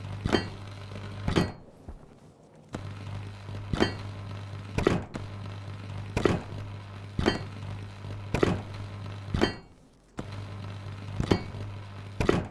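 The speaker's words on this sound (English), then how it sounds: "Go ahead and weld some of this up." Base parts are welded in a survival building game set on Europa: a repeated series of sharp metallic clanks arrives at roughly even intervals over a steady low electrical hum.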